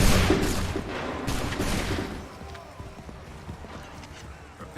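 Musket volley fire in Assassin's Creed 3, a burst of loud gunshots with the crackle dying away under shouting voices and horse hooves.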